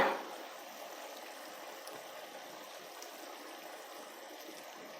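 Masala mixed with water is poured into simmering chicken gravy in a pan, giving a quiet, steady liquid trickle and bubbling with no talking.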